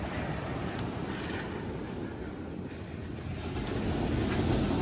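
Ocean surf at the Thornhill Broome beach campground in Point Mugu State Park, California: a continuous broad wash of waves close by, mixed with gusty wind buffeting the microphone and no talking.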